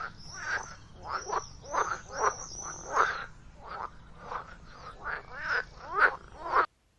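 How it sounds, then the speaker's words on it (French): A frog croaks in a quick run of rasping, ratcheting calls, about a dozen pulses in uneven bursts. The sound is close, clear and isolated, and stops abruptly. "La grenouille coasse."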